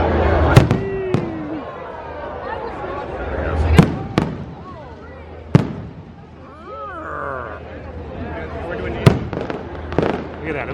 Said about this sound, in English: What better way to celebrate the culmination of D23 but by coming over to Galaxy's Edge and watching fireworks from this vantage by the Millennium Falcon.